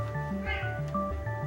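A pet cat meows repeatedly outdoors in a quick series of short, tonal, fairly clear cries.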